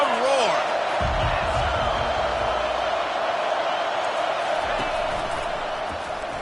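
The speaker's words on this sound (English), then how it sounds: "listen to this crowd roar" A packed football stadium crowd in Arkansas roars in a sustained wash of noise, while a play-by-play announcer talks over it.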